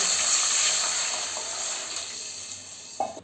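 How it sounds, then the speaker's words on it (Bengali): Water poured into a hot pan of fried onions for a potato dum biryani sets off a loud, close rush of hissing sizzle that slowly fades, ending with a brief clink. "আমি এর মধ্যে পরিমাণ মতন জল দিয়ে দেব"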